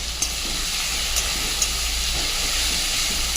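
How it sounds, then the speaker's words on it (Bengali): Onion, ginger, garlic and tomato sautéing in hot oil in a home kitchen, a steady close sizzle and hiss with a low hum beneath and a few faint clinks, no voices. "আর এদিকে তেলেতে পেঁয়াজ, আদা, রসুন আর টমেটো দিয়ে কষি"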